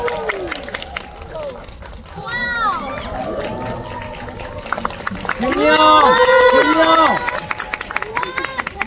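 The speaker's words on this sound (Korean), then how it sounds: "큰 박수로 부탁드리겠습니다." An audience in a Megabox COEX cinema applauds and cheers at a stage greeting for the film 비공식작전. Loud clapping mixes with high shouted calls and crowd chatter, swelling near the end.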